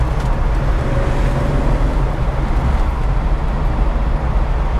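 A 1976 Datsun 280Z taking a corner, with a loud, steady engine drone and road rumble heard from inside the car, continuous and unbroken throughout.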